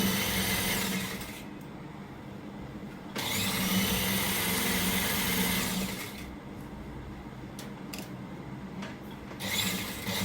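Sewing machine finishing the last line of stitching along a folded trouser zipper, a close mechanical whirring run in bursts separated by short pauses, with no talk.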